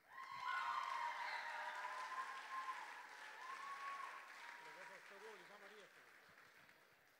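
Applause from an audience at a school stage show, a sustained burst of clapping that swells quickly and slowly fades over several seconds, with faint voices and cheering underneath.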